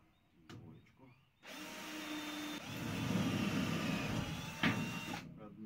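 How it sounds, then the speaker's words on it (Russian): A power drill bores into metal in a garage, starting after a couple of knocks and whining in a loud grinding burst for several seconds before stopping, close and dominant. "Приступаем к сверлению."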